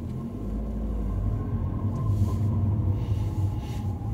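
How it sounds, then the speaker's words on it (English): A car with a manual transmission moves through holiday traffic. A low, steady engine and road rumble fills the cabin, with a faint steady hum and no speech. "Holiday traffic and a manual transmission."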